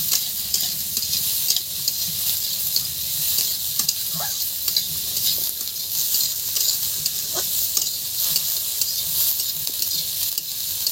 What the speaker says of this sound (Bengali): এবার দিয়ে দিচ্ছি দারুণ পেঁয়াজ। সুগন্ধ আসছে।